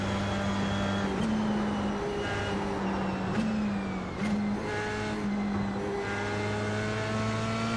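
A race car in the iRacing sim, engine droning loud and steady with gear-like pitch steps and brief lifts, rising and falling continuously throughout.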